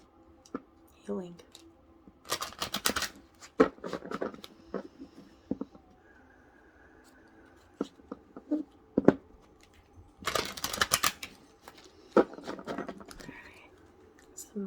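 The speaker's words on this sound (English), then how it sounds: "Sorry if the shuffling is a little loud." A deck of tarot cards is shuffled nearby in short bursts of papery riffling and scattered taps and clicks, with quiet pauses between bursts.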